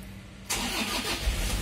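A 2013 Toyota Hilux single cab with a 2KD diesel engine cranks and catches abruptly, then settles into a loud, steady, close rumble.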